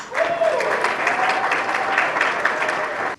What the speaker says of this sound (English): Round of applause again, everyone.